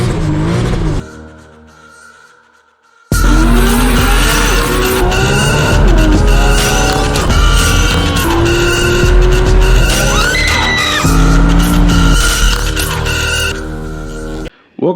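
A 1000-horsepower Toyota Supra doing a massive driveway burnout, the engine revving hard and tires squealing loudly for about twelve seconds after a short quiet pause, close and intense, with a brief voice at the start.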